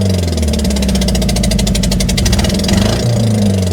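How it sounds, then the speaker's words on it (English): A Datsun B210 engine runs with one cylinder missing, producing a loud, uneven idle with a rhythmic stumbling pulse and a brief rev near the end, close up and without speech. "other than that cylinder missing, the engine's running great."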